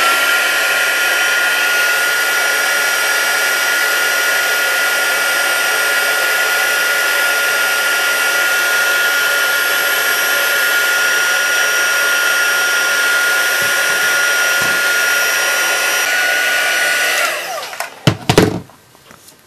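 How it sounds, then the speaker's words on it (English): A Stampin' Up heat gun blows continuously for heat embossing, a loud, steady, close fan-and-heater whoosh with a faint whine, then it clicks off near the end with a few handling knocks. "grabbing my new Stampin' Up heat gun"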